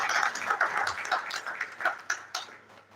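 Audience clapping at an academic lecture, a short burst of individual claps from a modest crowd, fairly close and uneven, lasting about three seconds with no talk.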